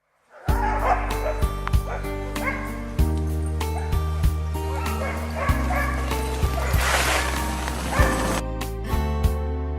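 Sled dogs in harness bark, yip and whimper excitedly in a dense, overlapping chorus close by, with repeated sharp barks over a steady backdrop of whining.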